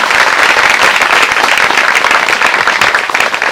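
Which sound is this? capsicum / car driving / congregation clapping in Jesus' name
congregation clapping in Jesus' name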